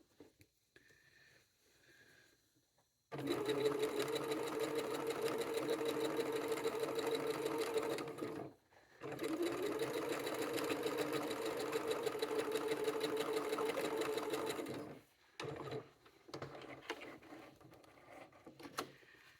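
Sewing machine stitching a tote bag seam, running in a steady fast buzzing whir for several seconds, pausing briefly, then running again in a second long burst before stopping, close and clear with no talk.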